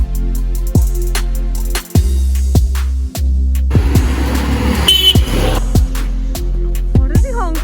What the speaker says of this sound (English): What is he honking at?